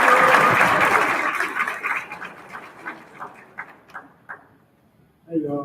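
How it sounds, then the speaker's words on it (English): An audience at an 8th grade graduation claps loudly at first, then the applause thins to scattered claps and dies away before a voice begins. "let's give him a round of applause"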